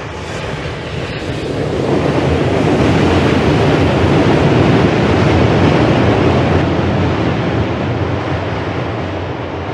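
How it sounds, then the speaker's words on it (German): A train passes over a steel bridge in rural Olt County, Romania, a broad, loud rumbling roar that swells after about two seconds, holds steady, then slowly eases near the end, with no talking. "Jetzt kommt wieder eine Eisenbahn."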